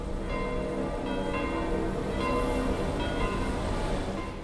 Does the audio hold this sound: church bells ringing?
yes